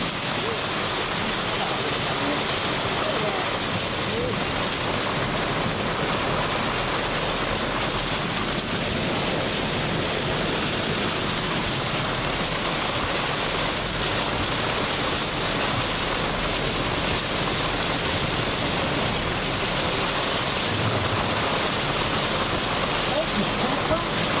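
Heavy rain pours steadily and loudly outdoors at Lake Nakuru National Park in Kenya, a dense unbroken roar of drops with no pauses throughout.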